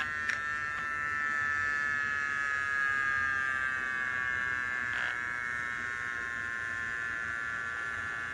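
A Matrixx Power Cleaner motor spins mini 4WD parts, giving a steady, close, high-pitched electric buzz that runs unbroken for the whole stretch with no talking.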